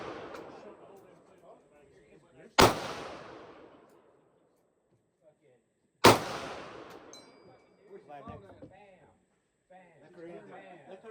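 Two sharp, loud Glock 23 pistol shots at a shooting range, several seconds apart, each ringing out and decaying, with people talking quietly between and after them.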